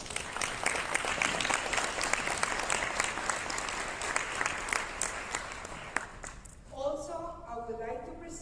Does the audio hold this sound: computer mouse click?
no